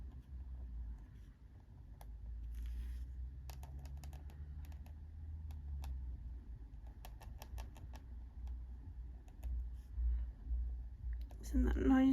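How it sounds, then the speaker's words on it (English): A pen scratches across paper while colouring a Johanna Basford Small Victories colouring book, giving close, quiet bursts of scratchy ticks and strokes over a low hum, with a person speaking at times. "Isn't that noise of the pen scratching on the paper horrible?"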